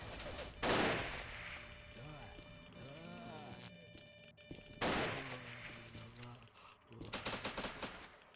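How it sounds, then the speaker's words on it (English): Shotgun blasts are fired in a video game, set in the Zone. A few sharp, loud booms are spaced apart, ending in a rapid burst of shots, with game sounds and an electronic warbling tone in between. "Somebody's shooting me with a shotgun, but I'm okay with that."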